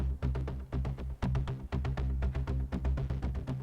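Filtered rhythmic synth pedals layered with a deep bass in a haunting orchestral atmosphere cue, pulsing in quick, steady throbbing bursts with a dense low end that stays loud throughout.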